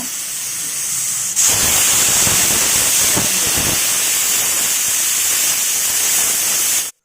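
A kitchen pressure cooker vents steam with a loud, steady hiss that bursts in abruptly after a quieter stretch and holds continuously until it cuts off sharply at the end.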